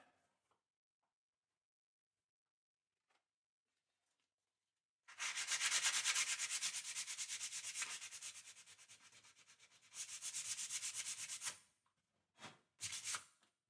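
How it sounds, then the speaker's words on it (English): Hand sanding of a custom guitar body in a luthier's workshop: steady, close scratchy rubbing strokes in two long sustained passes, then a couple of short final swipes, with no talking. "Give that a light sand."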